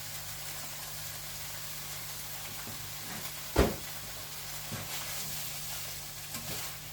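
Rice noodles stir-frying for pad thai with prawns in a pan give a steady close sizzle and hiss, with one sharp clatter of the pan or utensil and a few softer scrapes.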